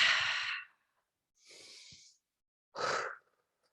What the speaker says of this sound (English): 3 more rounds of breath here.